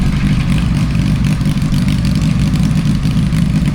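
A pulling tractor's engine idles at a tractor pulling event, a steady, loud low rumble holding evenly throughout with no voices over it.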